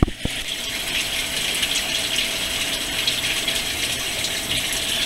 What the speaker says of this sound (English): The water is still draining from the two barrels here.